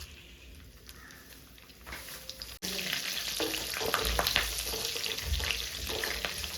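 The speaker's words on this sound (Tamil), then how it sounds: "இப்போ எண்ணெய் காஞ்சோன்னே இதில் வந்து கிராம்பு, பட்டை, சோம்பு அதெல்லாம் போட்டுக்கோங்க." Cloves, cinnamon, fennel, cardamom and curry leaves dropped into hot oil, with a quiet start followed by a sudden burst of steady, close sizzling and crackling that grows a little louder.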